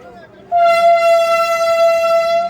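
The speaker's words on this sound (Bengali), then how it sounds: "ট্রেনটা ছাড়ছে।" Vande Bharat Express train at Khana Junction sounding a loud, steady horn as it departs the station, starting abruptly after a brief quieter moment and holding for about two seconds.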